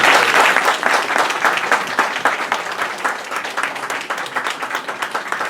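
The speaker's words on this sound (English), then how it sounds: "let's honor Nina with a big round of applause." An audience at a community meeting with the Russian-speaking community in New York gives a round of applause, loud dense clapping at first that thins into sparser, individual claps over about five seconds.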